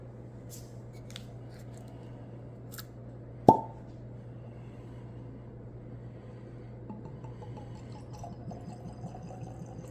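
A bottle of EH Taylor Single Barrel bourbon is uncorked with a single sharp, fairly loud pop over a quiet room with a steady low hum.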